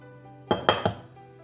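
Eggs cracked and dropped one after another into a large bowl for thin pancake batter, three quick close clinks and splats in a row, then a brief quiet settle.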